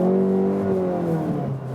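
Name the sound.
Volkswagen Golf GTI Clubsport 8 exhaust note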